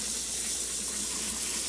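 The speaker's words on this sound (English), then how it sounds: "So now we're just rinsing the rice off. You basically just want the water to run clear underneath." Tap water runs steadily into a sink while rice is rinsed under it, a close, continuous hissing splash with no talk.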